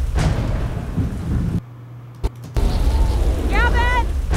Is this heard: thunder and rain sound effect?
yes